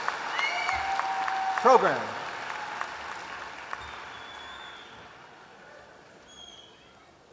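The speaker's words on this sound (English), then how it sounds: "One more round of applause for the 2024 graduates of the Master of Science in Business Analytics" Applause at a business school graduate commencement for the 2024 graduates, filling the hall at first and then fading away, with a voice speaking briefly over the clapping.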